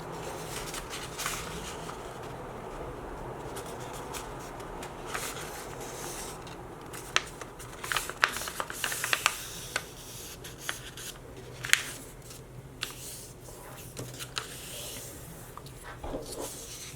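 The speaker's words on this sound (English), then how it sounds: "you're gonna fold it in half so that it creates a triangle" A sheet of paper folded in half into a triangle for an origami bobblehead Snoopy, with continuous soft rubbing and creasing rustles and a few sharper crinkles and taps, close up.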